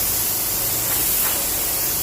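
Continuous close, loud airy hiss from a spray gun with a 1.2 nozzle pushing out clear coat in a heavy stream, holding steady throughout with no talking.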